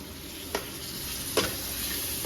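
Two tomatoes drop into a pan of masala frying with ginger-garlic paste for a stuffed potato and eggplant dish, giving a faint, steady sizzle with two brief soft clicks of stirring and no voices.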